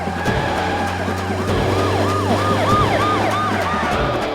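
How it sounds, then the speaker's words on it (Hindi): A police car siren wails behind a moving car, its rising and falling tone repeating in a steady cycle over the low engine drone, loud and close, with no talk. "हमारी गाड़ी के पीछे ये पुलिस की गाड़ी क्यों है?"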